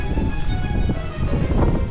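Cold wind in Tromsø, Norway rushes and buffets against the microphone in a low, continuous roar with no voices.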